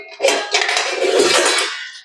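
Metal spoons and pots clatter and clink as someone rummages through kitchen utensils hunting for spoons, a close, loud burst of jangling dishware lasting about two seconds, with no talking.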